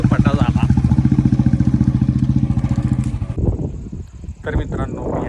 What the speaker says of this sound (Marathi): चला गेली बाई मोटरसायकलवर.